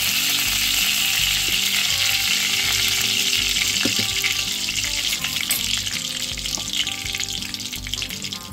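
Cumin and mustard seeds sizzle and crackle in hot oil for a broad bean curry, a loud continuous hiss with scattered pops, heard close with a low steady hum underneath and no voices.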